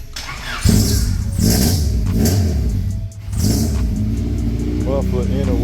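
Revving from an all-motor Honda Civic H2B running on E85, its damaged muffler adding rasp as the engine surges in strong bursts with a brief dip midway; a voice talks over the loud, close roar.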